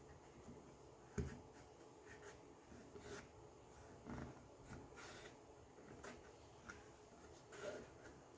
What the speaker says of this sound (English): So then I'm going to draw this one.